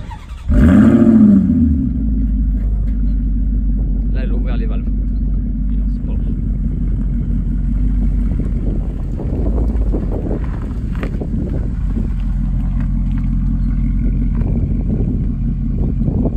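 A Maserati V8 sports car engine cranks and fires, snaps into a loud rev, then settles into a deep, rumbling idle close by, with someone talking over it throughout.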